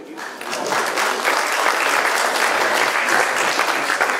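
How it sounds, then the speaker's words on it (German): Sustained audience applause fills an award ceremony at a Munich bluegrass festival, a dense, steady wash of many hands clapping that swells in the first half-second and then holds loud and even throughout. "die ist auch, glaube ich, ein Applaus wert, oder?"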